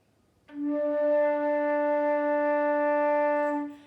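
A flute sounds one steady low D, clear and breathy, held for about three seconds before stopping, alone and close.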